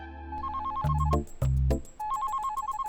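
A phone ringtone in a Hindi-dubbed comedy film plays a repeating electronic melody, loud and close, with a brief gap before the tune starts again.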